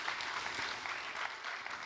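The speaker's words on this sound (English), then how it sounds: "This is your applause." Brief applause from a conference audience at a European employment and social rights forum, a dense, even patter of many hands clapping through the whole moment.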